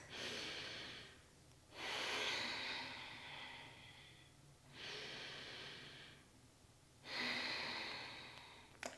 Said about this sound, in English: we're going to take 2 deep abdominal breaths